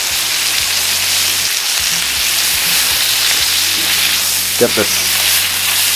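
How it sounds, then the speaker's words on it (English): Butter sizzles under a steak on a griddle with a constant crackling hiss, close and loud. A brief voice and a few soft clicks of the utensils sound over it. "this butter in under the steak just like that."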